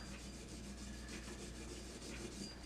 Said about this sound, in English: I'm going to take my wire brush. I'm just going to rub it down.